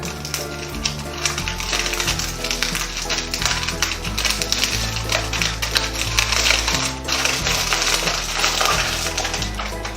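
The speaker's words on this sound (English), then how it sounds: "add some aluminum foil, I'll scrunch it up to try to get a cookie design" Aluminum foil is scrunched up by hand, giving a dense, continuous crinkling and crackling that stays close and steady throughout, with no talking.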